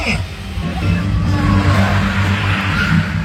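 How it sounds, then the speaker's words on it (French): Several stunt cars rev and accelerate together from a start, side by side, in a steady, loud roar, a dense low mechanical drone that holds for a few seconds. "Les voitures démarrent, portière contre portière, pare-choc contre pare-choc, maximum!"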